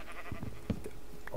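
Sheep bleat in the video game Minecraft, with a few short calls and soft blocky game sounds close together in a brief quiet moment, and no talking.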